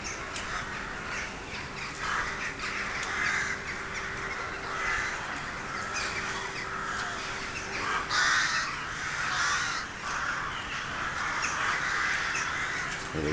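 A large flock of crows cawing in Killarney, Ireland, harsh overlapping calls filling the air continuously and steadily, with no talking.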